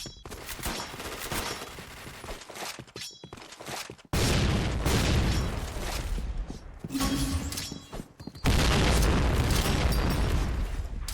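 Grenade blasts in a video game: a crackle of gunfire, then two heavy explosions boom in loudly, each followed by a rumbling wash of noise.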